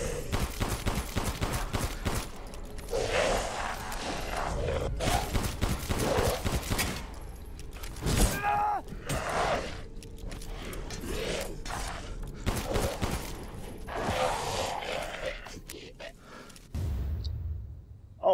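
Gunfire in Resident Evil Village, repeated bursts of shots in uneven clusters with short pauses between them, fairly close and sharp.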